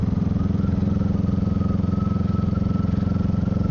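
A Honda Rebel motorcycle rides along a moorland road in Staffordshire, its engine giving a steady, close, rhythmic throbbing drone at even speed throughout.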